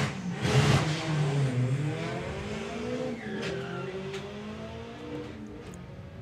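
A tuned VW Corrado and a VW Lupo launch side by side at a drag strip, engines roaring loud and close, then their pitch climbs through gear changes as they pull away down the track.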